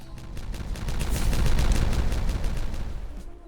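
Dynamite detonates in the video game Timberborn, a loud rumbling blast with crackling debris that swells and rolls on for a few seconds before fading.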